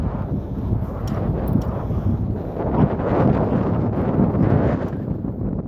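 A steady outdoor wind blows around an American flag, buffeting the microphone with a loud, continuous low rumble and hiss that swells and eases.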